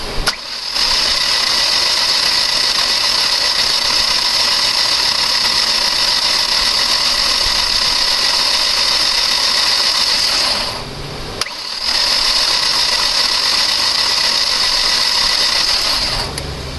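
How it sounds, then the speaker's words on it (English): A car engine, just reassembled after repairs to a dropped valve seat, the timing belt and the valve train, catches and then runs loudly and steadily up close. It dips briefly once before settling back into an even idle. "I should be able to crank it."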